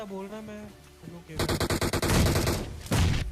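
Bursts of rapid gunfire ring out in the mobile battle royale game BGMI, a loud stuttering volley followed by a heavier crack, after a brief stretch of quieter game sounds at the start.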